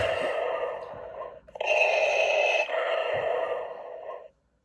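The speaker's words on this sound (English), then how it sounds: "now I get a full Vader breathing" The Darth Vader helmet from the Star Wars Black Series gives a loud, close, mechanical breathing cycle: a long hissing inhale and exhale, then another breath that cuts off abruptly.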